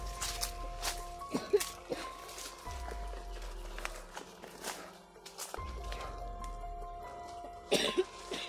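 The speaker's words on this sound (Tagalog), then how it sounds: "Mga ilang taon na yung ubo mo?" A person in a forest coughs in several short, harsh bursts with throat clearing, close by and fairly quiet, with footsteps and a few brief bits of talk between the coughs.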